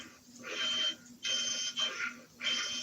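A Meccanoid robot's story function emits four harsh, buzzing electronic beeps in a regular on-off pattern, each lasting about half a second, fairly close and steady, with no talking over them.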